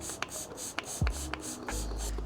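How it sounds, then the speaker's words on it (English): Rhythmic short hissing bursts of an aerosol spray sound close by as oil is applied to the dirty side of a K&N air filter during servicing of a Ford Falcon, with low rumbling handling noise underneath. "Don't spray the clean side, you spray the dirty side."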